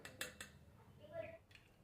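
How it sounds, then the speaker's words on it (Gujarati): A spoon clinks and scrapes against a bowl a few times while stirring custard powder, quiet and close. "કસ્ટર્ડ પાવડરને આપણે આ રીતે ચમચીથી સરસ ઓગાળી લેવાનું"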